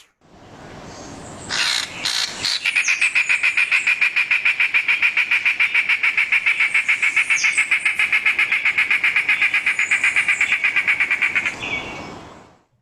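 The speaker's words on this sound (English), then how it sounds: "it has a very long, sustained song. And the name in English is the Puerto Rican lizard-cuckoo" A Puerto Rican lizard-cuckoo in the San Juan Bay Estuary gives a long, sustained call of rapid, evenly repeated notes lasting about ten seconds, loud and close, preceded by a few brief harsher sounds.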